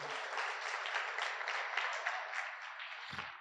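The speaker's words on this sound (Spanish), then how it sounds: "Un aplauso para Chuy, por favor." An audience at a lecture claps together in dense, steady applause of moderate loudness, lasting a few seconds before fading out.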